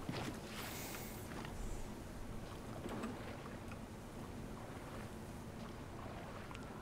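Boat gliding across water in Metro Exodus, with a soft steady wash of water and wind, faint and continuous, and a few light knocks and splashes.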